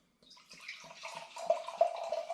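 Homemade all-grain imperial ginger ale poured from a bottle into a glass, a soft gurgling, splashing pour that grows steadily louder with bubbly fizz, close and without talk.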